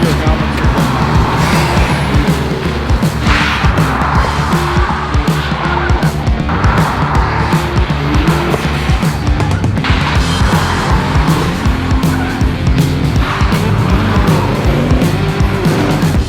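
A drift car skids through a corner at about 40 and spins out, engine roaring steadily and tires squealing loudly throughout, with voices talking over the noise.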